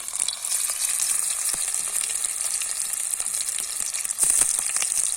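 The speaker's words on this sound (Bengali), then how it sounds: "বাঁধাকপি আর ডিমের পিসগুলো আমি কড়াইয়ের মধ্যে একটু ভেজে নেব" Cabbage and egg pieces fry in hot oil in a wok, a steady close bright sizzle with occasional soft crackles and a brief louder surge near the end.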